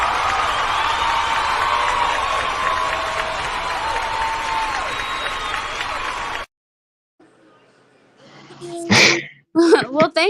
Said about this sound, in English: let me give you a round of applause for at least trying